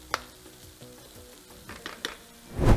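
Caramelized tomatoes sizzling in vegetable oil in a pan, a close, steady crackle with a few sharp pops, swelling into a louder hiss and stir at the very end.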